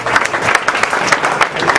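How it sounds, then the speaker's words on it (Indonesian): Lively applause from an audience at a stand-up comedy show at Omah Munir, many hands clapping in a bright, uneven patter with individual claps popping out, fairly loud and close. "Tepuk tangan untuk Omah Munir"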